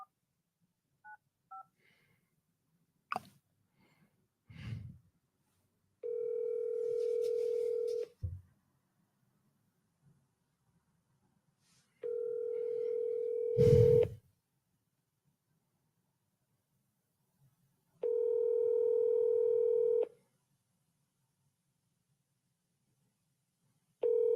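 An outgoing phone call to an agent rings out, with several long, steady ring tones spaced by silence and a few short clicks and thumps between them.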